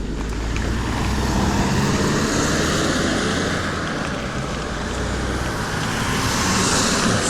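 Road traffic rushes past near a bridge, a continuous loud roar of several cars with a broad steady hiss and no talk.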